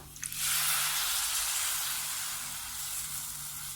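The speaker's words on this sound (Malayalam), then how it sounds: "ഇനി ഇതിലേക്ക് നമ്മൾ എടുത്തു വെച്ചിട്ടുള്ള തേങ്ങയുടെ 2-ാം പാൽ ചേർത്ത് കൊടുക്കാം" Coconut second milk poured into okra frying in oil sets off a sudden loud hiss that swells at once and then settles into a steady bubbling sizzle, fading slowly.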